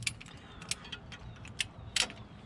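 A torque wrench set to 28 foot-pounds clicking while tightening a fuel hard line on a 24-valve Cummins VP44 engine in a 1998-2002 Dodge Ram; several sharp, close metallic clicks and ticks in scattered bursts over a quiet background.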